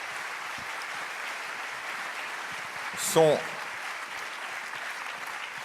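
A conference audience applauds speakers as they come to the stage: a steady, moderate round of clapping throughout, with a brief spoken word cutting in partway.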